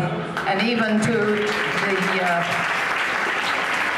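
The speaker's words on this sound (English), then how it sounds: "I think we should just give an applause to everybody" Applause from parents and guests at a kindergarten KG2 graduation ceremony, a steady wash of clapping filling the hall under a speaker's continuing voice.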